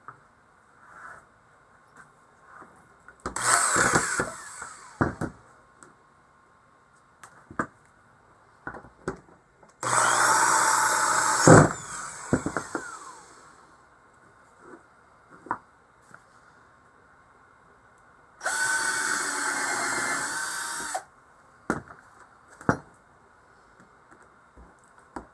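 A drill bores through a blank for an airplane's rudder cable outlet during homebuilt aircraft construction, three separate loud bursts of drilling lasting a few seconds each, with quiet clicks and handling noises between them.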